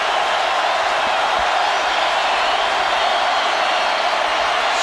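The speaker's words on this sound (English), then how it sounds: "Crowd making some noise now" Football stadium crowd at Ole Miss vs Auburn in 2009 roaring after a 28-yard touchdown pass, a loud, steady wash of cheering noise holding evenly throughout without pauses.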